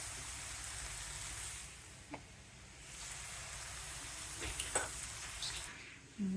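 Poha ingredients with fried peanuts, salt and sugar are stirred in a pan, giving a steady sizzling hiss with a few light clinks of the spoon against the pan, close up.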